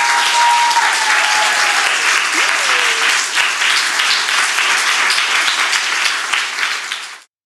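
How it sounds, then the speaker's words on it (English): Sustained, loud applause from a tour event audience, many hands clapping in a dense continuous wash with a brief voice calling out, before cutting off abruptly at the end. "round of applause for you guys."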